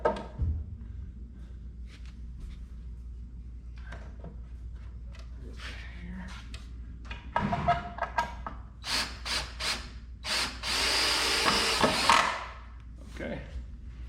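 A power drill driving screws into a wooden saw buck, giving short bursts of whirring and grinding against wood amid knocks and handling clatter, the loudest stretch coming near the end.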